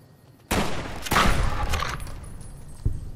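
A burst of rapid gunfire in Fallout: New Vegas, dense overlapping shots rolling for about a second and a half before tapering, with a final lone report shortly after.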